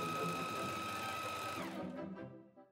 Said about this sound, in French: Nous allons piquer les hanches sur le sac à 2 mm du bord de la sangle.